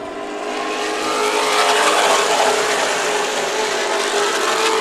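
Late model race cars racing at Irwindale Speedway, a dense, loud roar of several engines that swells as the pack passes and holds steady, with no talk.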